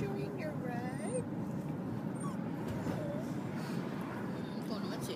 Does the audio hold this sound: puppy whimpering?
yes